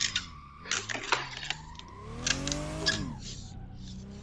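A BMW E46 drifts around a track, tires squealing in drawn-out howls over the engine note, with sharp bursts and a rising skid in the middle.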